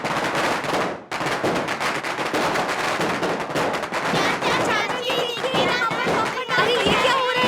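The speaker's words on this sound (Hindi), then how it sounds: "ये पटाखा का आवाज कैसा है? कौन फोड़ रहा है?" Dense, rapid bursts of firecrackers crackle and pop continuously, loud and close, with a brief gap near the start and shouting voices mixed in toward the end.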